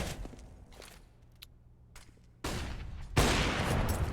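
AWP sniper rifle fire in Counter-Strike on the Mirage map: quiet footsteps and movement, then two sudden loud, sharp shots close together near the end.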